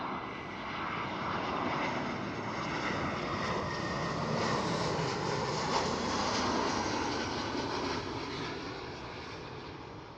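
EasyJet Airbus A319 jet passing overhead on approach to touchdown at Amsterdam Schiphol, a loud, steady broadband engine roar with airflow rush that swells and holds through the middle, then eases slightly toward the end.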